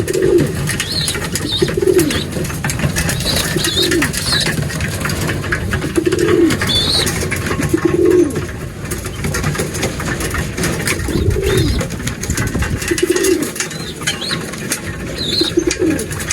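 Pigeons in a breeder's loft coo repeatedly while feeding, low rhythmic coos recurring every second or two over a steady loud background of shuffling and pecking, close to the listener.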